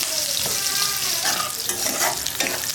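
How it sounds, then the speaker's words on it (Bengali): Onions fry in oil with green chillies for a Bengali rohu fish curry, a steady loud sizzle with crackling bursts and stirring scrapes, close by and without talk. "সুন্দর করে পেঁয়াজটাকে লাল লাল করে ভেজে নেবেন।"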